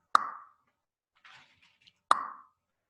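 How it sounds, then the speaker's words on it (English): Two sharp, hollow isiZulu Q tongue clicks against the palate a couple of seconds apart, close and clear, with a faint breathy rustle between them. "put your tongue on the roof or on the palate of your mouth and then force your tongue down"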